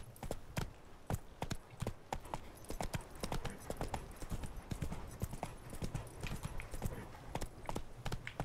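Roach the horse in The Witcher 3 trots along with brisk, rhythmic hoof clip-clops, close and steady for the whole stretch over faint background ambience.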